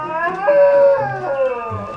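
A dog in Taiwan lets out a long, wavering howl, loud and near, its drawn-out tone rising and sliding through a couple of mournful phrases over about two seconds.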